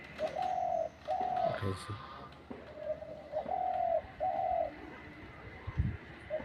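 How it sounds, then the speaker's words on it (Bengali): On a rooftop, a pigeon or dove coos quickly in a run of closely spaced phrases, near and clear, with a few thumps and a brief spoken word mixed in. "দেখেন কীরকম ঘন ডাকে।"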